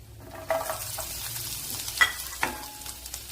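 Carrots tossed into a hot pan of oil with chillies while cooking millet noodles give a steady sizzle, broken by a few sharp clinks and scrapes as they are stirred.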